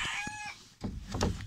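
A rooster missing its tail feathers crows at close range. A short, tonal call is followed by a rougher, louder burst of fowl sound, and no one speaks.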